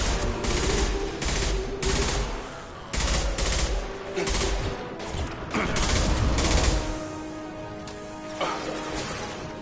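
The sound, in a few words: gunfire from a video game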